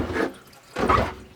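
Running tap water splashes while a bread machine is rinsed out in a shop, coming in two loud bursts with a brief lull between them and no talk.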